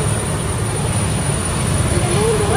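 An Indonesian Air Force Super Puma military helicopter is about to take off, giving a loud steady engine roar and rumble with a thin high whine, while people talk nearby.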